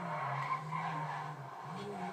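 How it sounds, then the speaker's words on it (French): A car drifts in the video game GTA 5, its tires squealing in a steady sliding screech under a droning engine, fairly close but moderately quiet. "Donc vous voyez quand je tourne elle glisse encore mieux."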